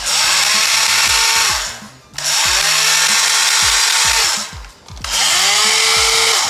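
Motor of a Nerf Stryfe blaster whirring in three loud, close bursts with short pauses between, a high grinding, scraping whine rising and settling in each run, no talk over it.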